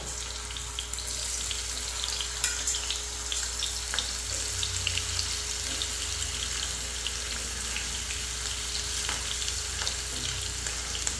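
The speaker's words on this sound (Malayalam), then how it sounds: "എണ്ണ ചൂടാട്ടെ കേട്ടോ എന്നിട്ട് നമ്മുടെ കോവയ്ക്ക കൂട്ടന്മാരെ നമുക്ക് ഇട്ട് കൊടുക്കാം" Ivy gourd (kovakka) frying in hot oil, a steady dense sizzle with occasional faint stirring clicks, close and continuous throughout.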